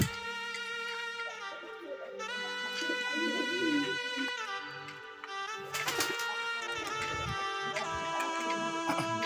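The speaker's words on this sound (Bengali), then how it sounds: "সকালবেলা ঘুম থেকে উঠে কবুতর ছেড়ে দিলাম" Pigeons at a small pigeon farm in the morning: steady bird calls and cooing run throughout, with a dense layer of tonal chirps and some clattering, fairly close and continuous, no talk.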